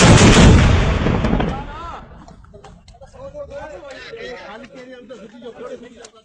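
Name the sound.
army mortar firing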